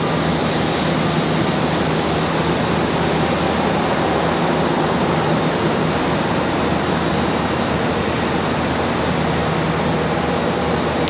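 An airliner departing Charlotte Douglas airport roars in a continuous, loud, steady engine rumble and hiss that holds unbroken from start to finish.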